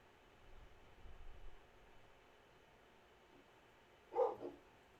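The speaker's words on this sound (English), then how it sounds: "And there go dogs again." A dog gives a short burst of two or three barks, fairly near but not loud, in a quiet video game scene with a soft murmur earlier on.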